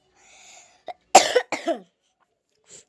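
A person with a sore throat coughs in a quiet room: a faint breathy lead-in, then two or three harsh, close coughs in quick succession, and a weak throat sound at the end.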